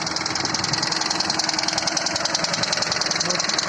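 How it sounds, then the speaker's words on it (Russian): A GAZ Gazelle with a 402 engine idles close up, its steady running carrying a fast, regular knocking tick that repeats evenly throughout, loud and alone. "Вот в нем двигатель есть вот такой стук."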